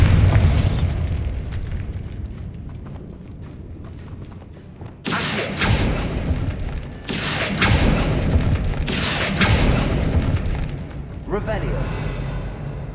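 Bombarda spell blasts in Hogwarts Legacy go off as several loud, booming bursts a couple of seconds apart, each with a crackling, rumbling tail over a constant background din.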